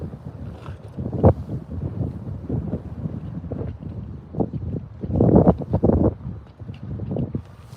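Wind gusts over a boat at night while out fishing for crappie, rumbling in uneven bursts against the microphone, with stronger surges partway through.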